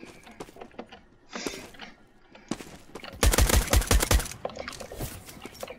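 Rapid string of pistol shots in the browser shooter Krunker.io, a tight burst of sharp cracks near the middle with scattered single pops before and after, loud and close.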